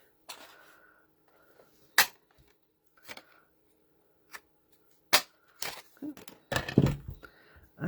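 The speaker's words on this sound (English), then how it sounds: "I could take my punch here and punch out 2 little feet." A hand paper punch cutting small shapes from card stock during a Christmas card-making class, several sharp isolated clicks spaced about a second apart, close and crisp, with brief rustling of paper between them.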